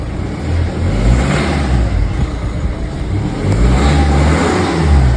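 A 1.6-litre diesel car engine with 115,000 miles runs loud and close, its rough clatter surging and easing as it revs, with no voices over it.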